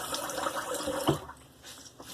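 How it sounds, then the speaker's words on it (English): Cold water running from a bathroom tap for a rinse after a razor shave, a splashing, gurgling stream that trails off into quieter trickles, close and moderate in level. "let's do a cold water rinse"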